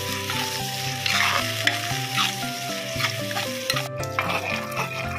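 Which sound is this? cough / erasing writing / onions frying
onions frying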